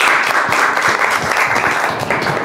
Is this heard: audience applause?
yes